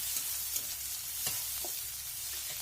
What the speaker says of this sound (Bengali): পেঁয়াজ ও লঙ্কাটা ভালো করে ভেজে এসেছে, ভাজা ভাজা হয়ে গেছে